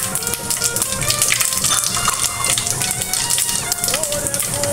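Cumin seeds go into hot oil where mustard seeds have already popped, and a dense, steady crackling sizzle fills the whole stretch up close.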